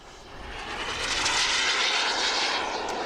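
A turbine-powered RC model jet in flight gives a steady, loud whooshing roar that swells slightly and holds broad and continuous, with no voices.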